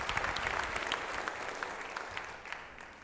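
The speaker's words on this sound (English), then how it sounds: "Let's give another round of applause to our Chancellor" Audience at a Folsom Lake College fall convocation applauding to welcome the college president, a dense burst of many hands clapping that slowly tapers off.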